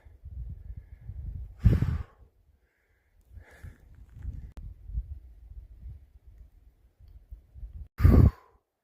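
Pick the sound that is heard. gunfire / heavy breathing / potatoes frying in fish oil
heavy breathing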